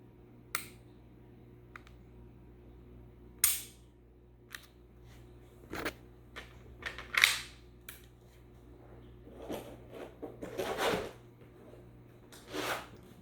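A Beretta M9A3 pistol is dry-fired in double action, its trigger giving sharp isolated metallic clicks spaced a second or two apart, each followed by softer reset clicks and handling noise in a quiet room.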